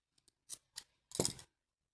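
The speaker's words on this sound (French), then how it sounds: "je coupe mon fil un peu grand" Scissors snipping crochet yarn: two tiny clicks, then two quick crisp snips and a longer final cut, very close and quiet against silence.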